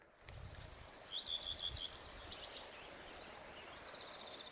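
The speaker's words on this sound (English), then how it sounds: "I've been accompanied by the bird song." Birds sing in the early morning outdoors, a steady stream of high chirps and trills, moderately close and unbroken, with faint rustling beneath and no talk.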